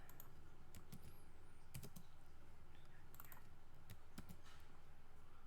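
Computer keyboard typing of copy-paste shortcuts: scattered faint key taps and clicks at close range over a steady background hiss, with no speech.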